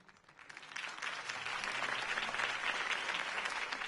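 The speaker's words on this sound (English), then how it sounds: "could have heard that applause" Crowd applause in a Batman video game after a campaign speech for Harvey Dent, a dense, steady roar of clapping that swells within the first second and then holds loud and even.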